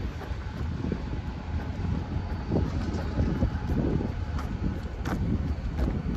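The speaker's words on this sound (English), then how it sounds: "Getting windy here." Steady gusting wind buffets the microphone outdoors beside a railway line, a constant broadband rush with occasional sharper gusts throughout and no voices.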